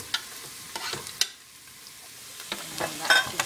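Onions sizzle and crackle in hot oil, with scattered pops and the scrape of stirring coming and going over a few seconds.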